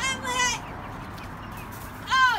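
Chickens on a farm squawk in two loud, frantic bursts at the start and end, with a quieter scuffling gap between them.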